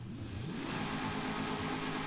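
A 6.2 litre V8 swapped into a Subaru Impreza in Forza Horizon 5, rumbling low and then swelling into a loud, sustained rev that holds steady and close.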